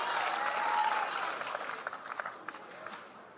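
Applause rolls through the crowd at a professional pickleball match at the Seattle Open. It is a steady wash of clapping that thins out toward the end, with a voice faintly heard.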